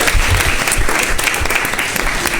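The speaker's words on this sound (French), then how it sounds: "encore ces applaudissements" A live audience breaks into sustained, fairly loud applause during a midday broadcast show, the clapping thick and continuous with a few lower thumps mixed in.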